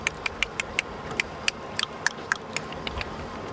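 Sharp, irregular whale clicks, picked up by an underwater hydrophone, ring out in quick succession over a steady wash of low background noise, fairly close and crisp.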